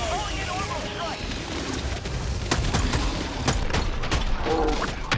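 A Gatling sentry turret rattles off bursts of gunfire against Terminid bugs in Helldivers 2, sharp repeated shots over a steady rumbling battle din, with voices talking over the action.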